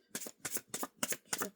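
Tarot cards being shuffled in five quick, crisp riffling bursts, close and quiet, with no voices.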